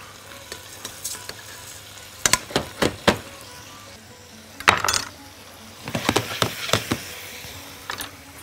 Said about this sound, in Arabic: حبة زيت، وادي الرز بتاعي